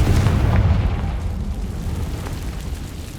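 A Confringo blasting curse explodes in the Hogwarts Legacy game: a deep, booming rumble that is loudest at the start and rolls on steadily as it slowly fades, with no voices.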